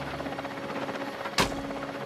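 A helicopter hovers close over a tiger in snowy conifer country, its steady rotor drone running throughout, broken near the middle by one sharp, loud crack like a tranquilizer shot.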